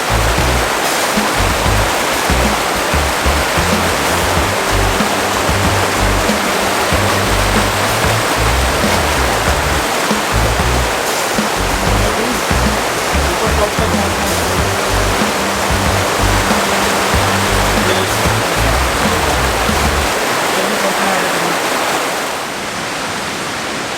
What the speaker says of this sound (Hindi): हमें रास्ते में दिख रहे हैं ये बेहतरीन जोगनी फॉल्स से आते हुए वाटरफॉल का नज़ारा